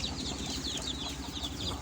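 Chickens in a coop with young birds, clucking and chirping steadily throughout, a dense layer of overlapping calls at moderate distance with no talk.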